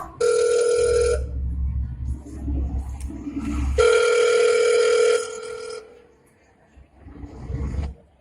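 A telephone rings in two long bursts of bright, harmonic-rich tone during a school drama staged at an annual function, with low rumbling noise beneath and a quieter stretch between the rings.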